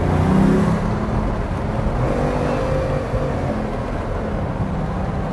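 A Bugatti Veyron 16.4 Super Sport accelerating hard, a loud steady roar of engine and rushing drive noise that holds constant and close for several seconds with no talk over it.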